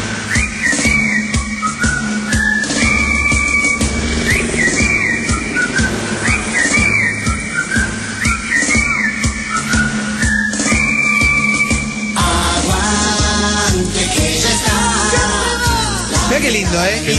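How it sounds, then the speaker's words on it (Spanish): A whistled 1980s TV theme melody runs over backing music, bright and continuous, with the tune shifting into a different section partway through; voices can be heard alongside. "todas las cortinas de los 80 igual tenían silbiditos"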